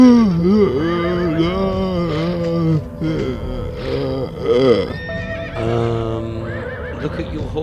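A mare in the video game Limbo of the Lost whinnies and neighs repeatedly, loud and close, with snorting breaths between the calls.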